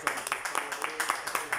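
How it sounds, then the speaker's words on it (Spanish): Staff in a bookstore give a short round of applause, brisk and evenly spaced claps from a small group close by, with a voice heard alongside. "invito al personal que se encuentra aquí en la librería ahora a darle un aplauso"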